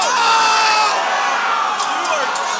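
A hockey arena crowd roars and cheers after a game-winning overtime goal, a loud, sustained wall of shouting and whooping that stays near and steady throughout.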